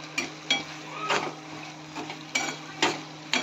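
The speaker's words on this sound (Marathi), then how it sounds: "हे सर्व आता व्यवस्थित मिक्स करून घ्यायचं आहे।" A spoon scrapes and taps in a pan as salt is stirred into a dry pigeon pea vegetable dish, a few close, rhythmic strokes with no talk.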